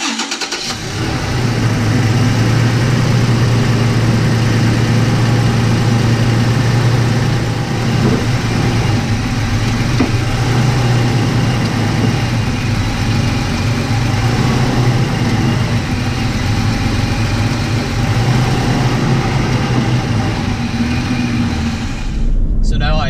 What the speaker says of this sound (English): now we are going to start up the vehicle, make sure everything sounds right with the torque converter and the transmission